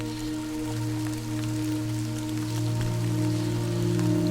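Rain falls steadily in the video game Death Stranding, a soft even patter and hiss, alone with a low steady hum beneath it.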